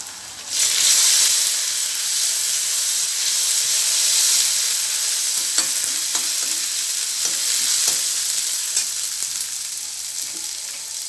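Ginger garlic paste sautés in a hot pan for village-style shark puttu, giving a steady loud sizzle with occasional light clicks of stirring, and no voices.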